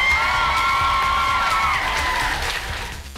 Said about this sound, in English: give yourself a huge round of applause for that.